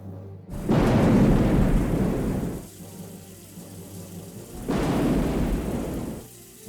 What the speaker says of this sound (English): Soon enough, a big rainstorm was raging across the coast.